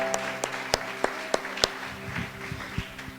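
Applause in a church after a sermon, a handful of sharp distinct claps standing out over a steady hum, thinning into scattered softer claps toward the end.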